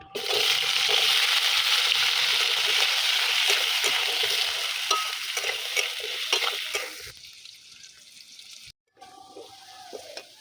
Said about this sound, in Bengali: আলুগুলো এইভাবে ডুমডুম করে নিয়েছি, আলুগুলো ভেজে নেব